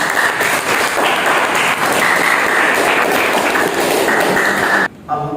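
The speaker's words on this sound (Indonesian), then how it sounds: "Tepuk tangan untuk siapa?" Students in a classroom break into loud, sustained clapping for several seconds, the dense patter stopping abruptly near the end.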